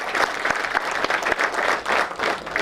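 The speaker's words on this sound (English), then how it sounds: "So one more round of applause to all the 4." A workshop audience gives a round of applause for four speakers, a dense, lively burst of many hands clapping close by with no talk over it.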